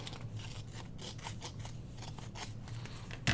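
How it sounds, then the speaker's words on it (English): Scissors snip through a magazine page in a close, quiet series of soft rhythmic cuts, ending with a louder thump; no one speaks. "I may just trim this little piece off instead of trying to glue it down."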